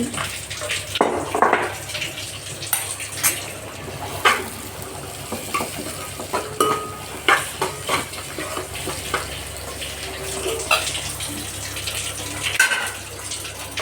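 Stirring a paste into a rice dish cooking in a pot, with soft scraping and wet bubbling under a steady low hum, loud clattering strokes recurring irregularly throughout.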